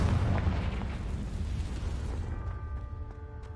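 The Confringo blasting spell explodes in the video game Hogwarts Legacy, a loud, deep boom that rumbles and fades over a few seconds, with faint chiming game tones in the tail.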